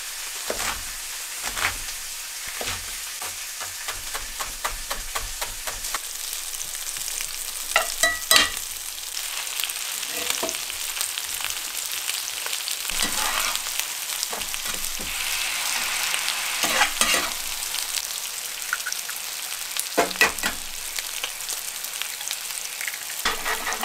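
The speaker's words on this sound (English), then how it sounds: "The stir fry, we added some rice wine vinegar, some soy sauce, salt and pepper, cracked a couple eggs in there." A stir fry with rice wine vinegar, soy sauce, salt, pepper and cracked eggs sizzles steadily outdoors in Alaska, bright crackling broken by repeated clinks and scrapes of stirring, no voices.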